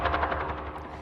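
A helicopter chasing wild mustangs across the California range gives a close, loud rhythmic rotor thump with a rapid beating pulse, alone over a short span.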